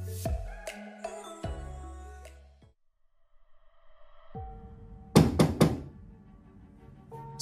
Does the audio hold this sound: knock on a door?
yes